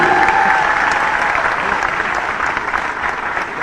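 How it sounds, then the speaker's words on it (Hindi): Crowd at a government scheme launch event in Bhopal applauding a young girl's singing, loud, steady massed clapping that fills the space evenly from start to finish. "जोरदार ताली बजा इसकी आवाज के लिए"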